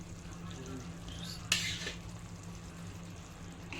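Fried eggs drop into a boiling egg fry gravy and get stirred, a quiet steady bubbling simmer broken by one brief clink and splash partway through.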